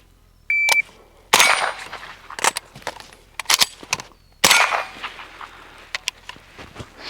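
Suppressed pistol shots on a shooting range with a shot timer: a high electronic start beep, then a string of sharp muffled shots in quick bursts, close and loud over a quiet background.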